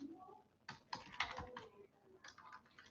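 Typing on a computer keyboard, a quiet run of soft clustered key taps in a few short bursts, fairly close but low in level.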